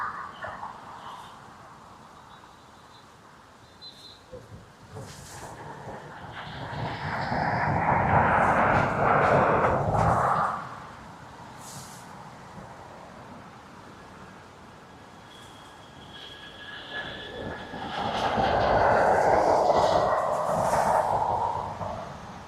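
An Aer Lingus airliner from Brussels lands at a windy Dublin Airport, passing with two swelling waves of jet roar against steady wind noise, rising and fading as it goes by.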